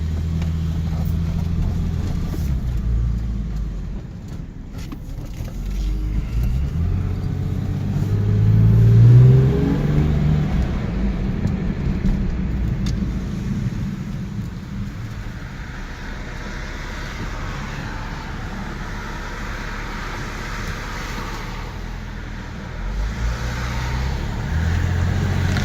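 Car with about 127,000 miles on it driving along, its engine a steady low drone inside the cabin that rises as it accelerates midway, then settles to a smooth cruising rumble with road noise.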